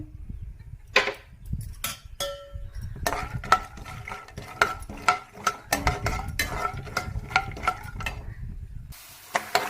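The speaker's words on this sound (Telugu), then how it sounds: "ఇప్పుడు ఇదే ప్యాన్లో మనం ముందుగా తీసుకున్న పల్లీలు కూడా వేసి వేయించుకుందాం" Peanuts fry in a pan while a utensil stirs and scrapes them, giving repeated close metallic clinks and knocks over a light sizzle, with no talking.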